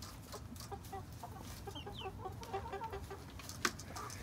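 Hens, including a Welsummer, cluck softly and intermittently in a quiet yard, with low murmuring calls and a faint sharper note near the end.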